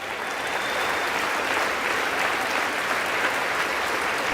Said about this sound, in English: They just keep clapping over him.